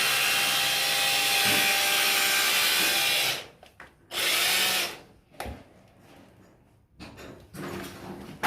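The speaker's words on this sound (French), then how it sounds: "On perce." A power drill bores into a ceramic floor tile while fitting a toilet, whining loudly and steadily for about three seconds, then cutting in again in shorter bursts separated by pauses and handling noise.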